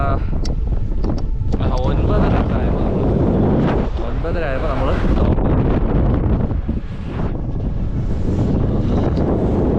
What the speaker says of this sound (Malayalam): വോയിസ് ക്ലിയർ അല്ലായിരിക്കും, നല്ല നോയ്സ് ഉണ്ട്, കാറ്റടിക്കുന്നുണ്ട്